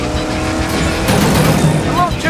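Race car engine and tire noise from the Cars 3: Driven to Win racing game on PS4, London Buckingham Sprint track, with a steady loud engine drone, brief squeals, and a voice talking over it.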